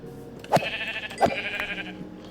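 Two short, nasal sheep bleats a moment apart from Minecraft, with faint background sounds between them.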